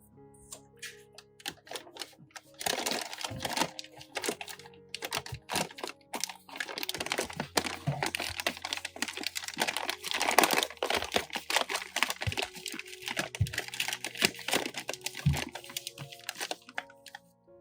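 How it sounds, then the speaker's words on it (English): Whole onions being placed into a paper bag, with close, busy paper crinkling and rustling in rapid irregular bursts throughout, no voices. "Put the whole onions in a paper bag."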